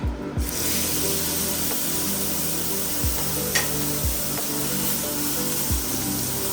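Steak dropped into a hot pan of smoking peanut oil gives a loud, steady sizzle with occasional pops and scrapes throughout.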